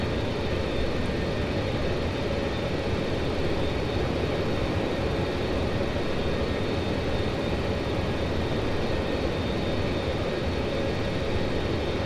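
The four jet engines of a simulated Avro Vulcan spool up for takeoff in the JustFlight flight simulator, producing a loud, constant, dense roar that holds steady throughout, with no voices over it.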